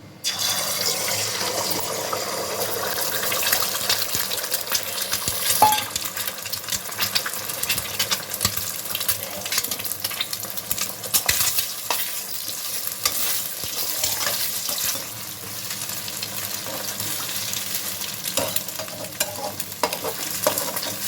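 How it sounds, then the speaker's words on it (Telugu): Half a dozen beaten eggs poured into hot oil in a pan give a continuous, even sizzle and crackle that runs steadily for about twenty seconds. "ఆయిల్ వేడైందండి. ఎగ్స్ ఒక అరడజన్ ఎగ్స్ ఈ విధంగా ఒక గిన్నెలో కొట్టి పోసుకున్నానండి. అవి వేసుకుంటున్నాను."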